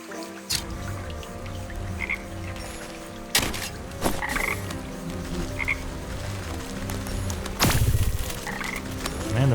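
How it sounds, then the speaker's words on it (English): Frogs in the game Wytchwood croak continuously in a steady, repeating chorus over a soft ambient background, with a few louder splashy thumps scattered through the clip. "Man, the frogs are respawning."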